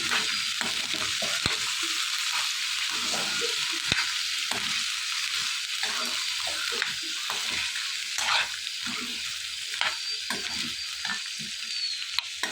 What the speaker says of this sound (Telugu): కారం వేసుకున్న తర్వాత కొద్దిగా గరం మసాలా కూడా వేసుకుని ఇవన్నీ కొంచెం సేపు ఫ్రై చేసుకోవాలి